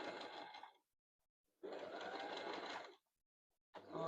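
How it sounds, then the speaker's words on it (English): A sewing machine stitches fabric in two bursts of steady rapid whirring separated by a pause, then starts a third run, close and fairly quiet. "while the machine is sewing"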